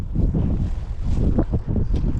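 Strong wind buffets the microphone outdoors while fishing for perch, a steady low roar with gusty surges and faint splashing underneath.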